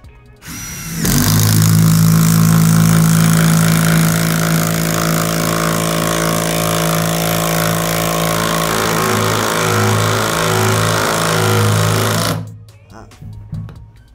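A Dewalt DCF801 12V brushless impact driver drives bolts in one loud, continuous burst of buzzing hammering that lasts about eleven seconds, then stops abruptly.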